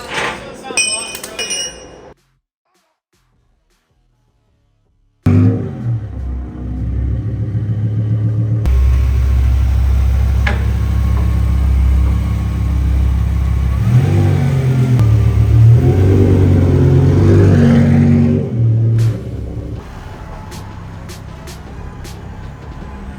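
BMW E60 M5 with its V10 engine on a dyno, a loud, close, sustained engine roar that climbs steadily in pitch through a long pull and then cuts off, with a brief silent gap and clinks beforehand.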